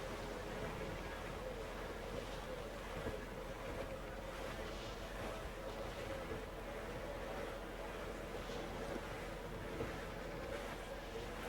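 In Assassin's Creed IV: Black Flag, a sailing ship cuts through open sea with constant wind gusts and rolling waves, a steady wash of rushing noise at low level, with occasional faint voices beneath it.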